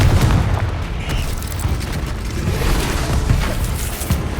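Explosive Confringo spell blasts in the Hogwarts Legacy video game burst as heavy, booming impacts with crackling debris, layered over a continuous rumble of combat.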